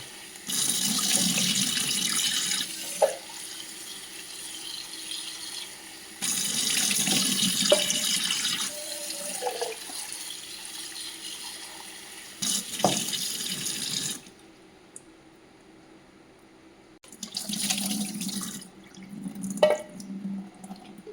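Cold water runs from a kitchen tap in loud, steady bursts while something is rinsed and drained in a strainer during payasam preparation, with short pauses and quieter splashes between the flows.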